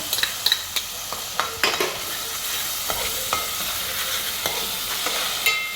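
Tomato puree being stirred into green masala frying in hot oil in a pan for a Rawas fish curry, a steady close sizzle with scraping spoon knocks at an irregular pace, no voices.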